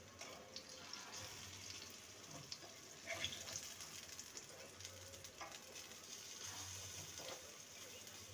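Bottle gourd fritters frying in hot oil, a soft continuous sizzle and crackle with small pops, quiet and close, with faint clinks of a utensil now and then.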